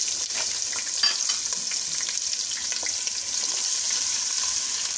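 Chopped onion and cumin seeds frying in hot oil for bhindi masala, a steady close sizzle with occasional stirring clicks and crackles.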